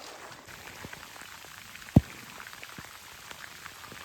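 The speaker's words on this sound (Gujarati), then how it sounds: "વરસાદ પાછો ચાલુ થઈ ગયો છે" Rain falls on a waterlogged farm field as a soft, steady patter of scattered drops, with one sharper close tap partway through.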